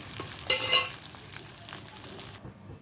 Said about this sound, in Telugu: మా ఇంట్లో చిన్నపిల్లలు ఉన్నారు కాబట్టి సో దీన్ని మంచిగా కడక్గా ఫ్రై చేసుకుంటున్నాను అనమాట